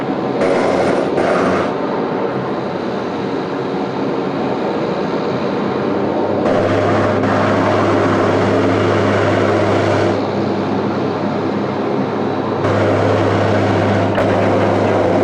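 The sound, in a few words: Dash 8 turboprop aircraft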